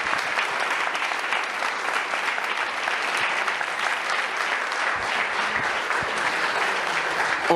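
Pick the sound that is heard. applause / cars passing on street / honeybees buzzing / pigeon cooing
applause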